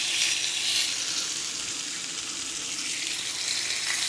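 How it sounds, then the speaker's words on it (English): Steaks sizzle on a piping hot grill, a steady, close hiss and crackle of searing meat that carries on without a break. "we got this thing piping hot, and we're just gonna stick them on there. Should get my tongs, but hear that sizzle."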